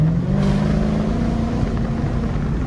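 A car's engine hums under light throttle as its wheels spin, a steady low drone that eases slightly in pitch, close and continuous without talking.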